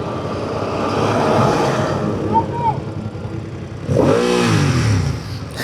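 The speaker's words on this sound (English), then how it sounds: "It's got a crap exhaust when you rev bomb it." A BMW motorcycle engine with a poor exhaust is blipped and revved, rising and falling in two surges close by, the second harsher and louder.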